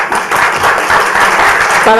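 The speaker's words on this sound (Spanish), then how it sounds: "Un aplauso a ustedes" An audience at a book presentation applauds in a loud, close burst of dense clapping, with a voice starting to speak at the very end.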